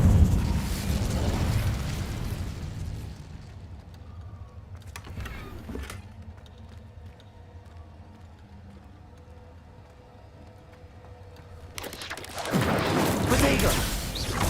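An Incendio fire spell in a video game erupts in loud fiery blasts at the start and again at the end, with a short burst in between over quieter, rumbling background.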